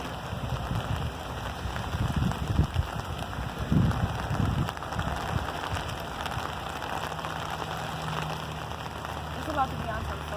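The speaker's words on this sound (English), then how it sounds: "It's rain and it's pouring." Heavy summer rain pouring outdoors, a constant hiss of drops on surfaces with some louder splattering bursts, and faint voices in the background.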